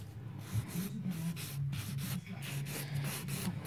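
A nail file rubs along the edge of a gel-coated nail in quick, even back-and-forth strokes, a close, dry scratching rasp with no talking.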